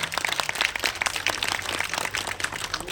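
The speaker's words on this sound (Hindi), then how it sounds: "पर तालियों की आवाज़ बहुत कम है, जोरदार होनी चाहिए।" Audience applause at a Brahma Kumaris mela in Nalagarh: steady, dense clapping from a crowd, moderately loud and even throughout, with no voices over it.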